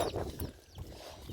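Chickens cluck softly in a rice field, a few faint, brief clucks against an outdoor background.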